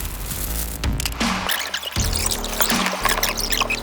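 Engine oil poured onto a new iPhone case, a steady close pouring and trickling sound running continuously, with a few brief dips in the flow.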